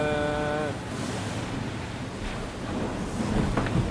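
Strong wind of 35-40 knots and surf at sea aboard a racing sailboat in the Southern Ocean forties during the Vendée Globe, a steady loud roar of gusts and rushing waves with a brief tonal whine at the start.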